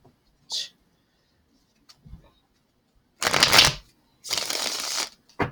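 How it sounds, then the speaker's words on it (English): Two bursts of riffling tarot cards, each about a second long, close and crisp, with a few faint taps and rustles between them. "Let's shuffle up these cards a bit."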